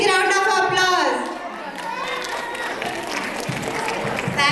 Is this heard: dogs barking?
no